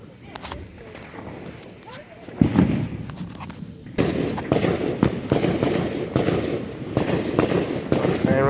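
Fourth of July fireworks exploding at an outdoor show: a sharp booming burst followed by rolling crackles and sustained rumbling explosions, fairly loud and continuous with distant echoes.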